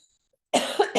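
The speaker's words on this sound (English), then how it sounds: "Excuse me while I take a coughing break." A single close, harsh cough bursts out after a moment of silence, followed by a shorter second cough.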